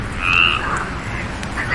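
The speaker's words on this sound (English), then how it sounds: "why do frogs make that sound?" Frogs croak at night, a steady chorus of repeated calls carried on continuously near and mid-distance with no voices.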